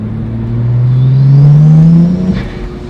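A twin-turbo car accelerates nearby, its engine note rising steadily in pitch and loudness for a couple of seconds before easing off, with no talking.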